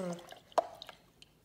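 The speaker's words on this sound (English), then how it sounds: "rinse it off in there in your soapy water. And make sure you give it a good spin inside there" A paintbrush is swished in a container of soapy water, with a wet splash and a few small drips and sloshes heard up close, behind a faint voice.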